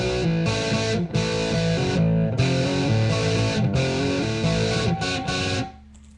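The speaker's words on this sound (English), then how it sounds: "all these different distorted pedals you can choose from this thing" An electric guitar runs through a distortion preset on a Zoom R8 recorder, playing a gritty, sustained chord riff with several brief breaks before the last chord rings out and cuts to quiet.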